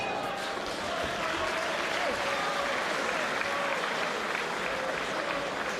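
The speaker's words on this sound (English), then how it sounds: "May have heard the cheers" Cheering and applause from a boxing crowd fill the arena throughout, a dense, steady roar with voices mixed in.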